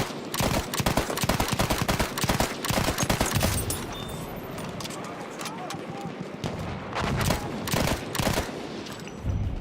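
Machine gun fire and rapid bursts in a Battlefield 1 firefight, dense and continuous across the clip with overlapping shots and battle noise, loud throughout with voices mixed in.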